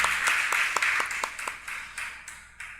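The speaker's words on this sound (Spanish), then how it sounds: "Dele un aplauso al Señor." Church congregation applauding during a Spanish-language service, a short burst of rhythmic clapping that starts loud and gradually thins out over a few seconds.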